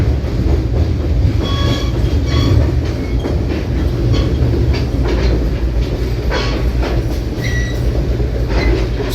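A passenger train on a Tennessee Valley Railroad Museum excursion, Missionary Ridge Local, rolls steadily along the tracks with a constant low rumble, rhythmic clacking and occasional high wheel squeals, heard from on board.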